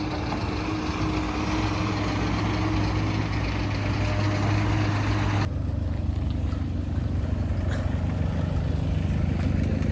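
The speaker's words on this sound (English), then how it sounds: "There's a big digger there." A big digger's engine runs at roadworks with a loud, steady, low diesel drone that fills the whole stretch. The tone shifts partway through but never stops.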